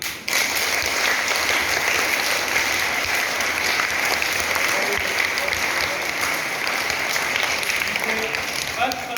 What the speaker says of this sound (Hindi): एक बार अपने लिए सभी बच्चे ऊपर हाथ करके जोरदार तालियां